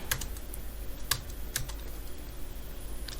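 Computer keyboard typing in a few short bursts of clicks, close and fairly quiet, over a low steady room hum with no talking.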